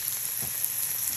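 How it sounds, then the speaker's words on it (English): Food fries in a pan with a light, steady sizzle, soft crackling spread evenly through the moment with no voices over it. "Oh, you hear that sizzling now? A little sizzling?"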